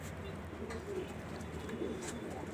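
Pigeons cooing softly while held in the hands, a steady low murmur of coos close by with faint background noise.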